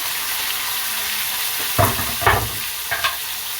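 Tomatoes sizzle in a hot pan, a steady hissing fry broken by a few loud scraping stirs of a spatula near the end.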